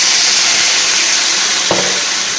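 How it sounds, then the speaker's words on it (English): Loud, steady sizzling hiss of butter frying in a hot pan, with a brief clink partway through. "My burner's quite hot, so it did sizzle."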